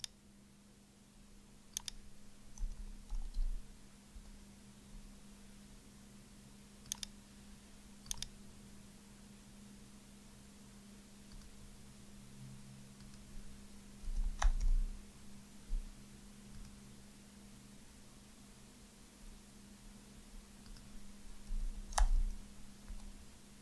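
Sparse, faint mouse clicks at a desk while working in Xero accounting software, a handful of soft isolated taps spread over a steady low electrical hum, no talking.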